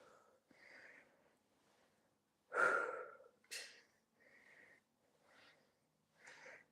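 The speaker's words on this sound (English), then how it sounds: "Breathing nice and deeply throughout." Deep breaths come and go during a chair-based stretching workout, a series of soft inhales and exhales with one louder, sharper breath in the middle, close and otherwise quiet.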